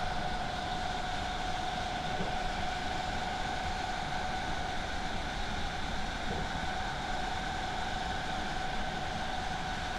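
A steady, droning rumble of a Class 319 electric train in Train Simulator, with a constant mechanical hum and faint hiss, unchanging and continuous throughout.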